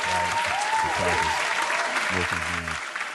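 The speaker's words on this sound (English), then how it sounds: "Giving Ness some hand claps." A small group gives a round of birthday hand claps, a brief burst of clapping mixed with a voice and some background tones.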